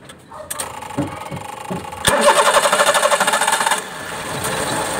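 A Mitsubishi Multicab mini truck's 3G83 12-valve engine with a carburetor problem cranks a few times, catches with a loud sputter, and settles into a steady rattling idle close by.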